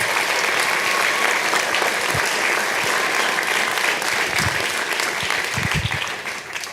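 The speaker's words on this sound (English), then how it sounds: "let's give him a big round of applause." Audience applause at a Perry High School signing day ceremony, steady loud clapping from a crowd filling the room throughout, tapering slightly at the end.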